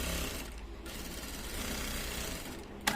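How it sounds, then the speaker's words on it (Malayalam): Close, steady mechanical whirring of a sewing machine with a lockstitch as it sews the front fly of a pair of pants, a busy rattling run that lasts the whole short stretch. "നമുക്ക് സ്റ്റിച്ച് ചെയ്യാം. ലോക്കിട്ട് തന്നെ സ്റ്റിച്ച് ചെയ്യാം."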